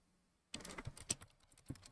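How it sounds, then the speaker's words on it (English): Computer keyboard typing begins after a brief silence, a rapid run of close, uneven clicking keystrokes with no talk. "I'm just typing."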